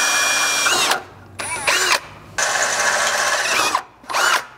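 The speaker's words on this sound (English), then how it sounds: "From here, you want to start with a small pilot bit. I believe this one is 1/8 inch" A power drill spins a 1/8 inch pilot bit during a Nissan Frontier rock slider install, whining loudly in four close bursts separated by brief pauses, with pitch sweeping as each burst winds down.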